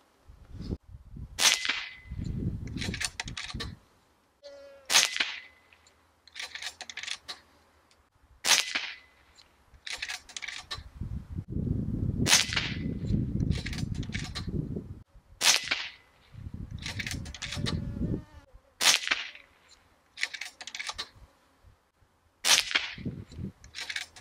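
A Niksan Ozark W .177 PCP air rifle fires FX 10.3 grain pellets in a series of sharp, loud cracks at irregular intervals. Faint handling and cocking noises fall between the shots.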